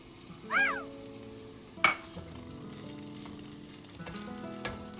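Potatoes and peas frying in a pan for Indori poha, a soft steady sizzle with occasional stirring scrapes and clinks, while a cat meows briefly near the start.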